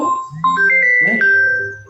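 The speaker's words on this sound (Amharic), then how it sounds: "የሆነ ስልክ እየጠራ ነው።" An electronic phone ringtone plays a short melodic pattern of steady, pure tones, loud and close, with no voices.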